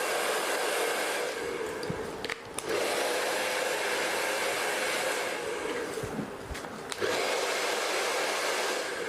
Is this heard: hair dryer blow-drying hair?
yes